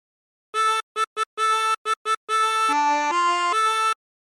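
Tremolo harmonica playing the opening phrase of the Drunken Sailor sea shanty: a series of bright reedy notes, a few short detached blows then longer held tones, stepping down and back up, close and clear with no talk.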